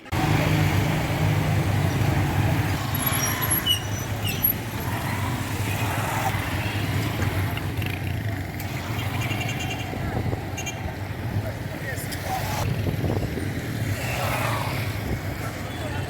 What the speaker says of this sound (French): Voilà la diaspora qui doit traverser les rues très animées de Goma